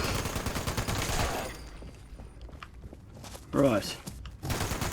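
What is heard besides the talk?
gunfire from player's gun in Fallout 76 video game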